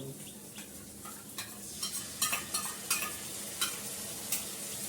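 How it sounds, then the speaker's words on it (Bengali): Spices fry in oil in a pan as yogurt goes in and is stirred, with a soft steady sizzle under a series of light spoon scrapes and taps that grow busier midway. "এটা রীতিমতন কষে গেছে আমার, এবার দইটা দিয়ে দেবো।"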